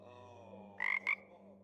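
A video game frog lets out a pair of short ribbiting croaks, the first a rapid trill and the second a brief chirp, above a soft constant background drone.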